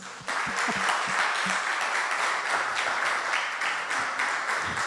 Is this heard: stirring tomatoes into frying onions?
no